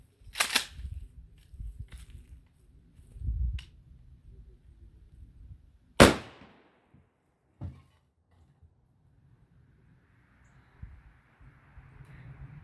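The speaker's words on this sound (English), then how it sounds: "This is a Mossberg Shockwave 20 gauge, and I'm going to be using a 3-pellet buckshot." A Mossberg Shockwave 20 gauge shotgun fires 3-pellet buckshot at an old front door from about 10 feet. One sharp, loud blast stands out in the middle, with quieter handling knocks before and a faint rustle after.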